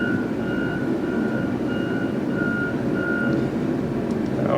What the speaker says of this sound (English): our snow removal people from the city are here picking up all the snow they piled up in the cul-de-sac